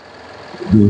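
A used car's engine on a dealer's lot in Vellore is revved, a loud low rumble surging up in the final third of the clip after a quieter idle.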